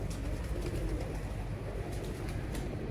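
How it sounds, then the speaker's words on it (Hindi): Red-eyed pigeons coo steadily and close by, a continuous low burbling murmur that fills the space alongside soft bird calls and no talking. "लाल आँखों वाले रेड आइज कबूतर हैं"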